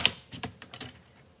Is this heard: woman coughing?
no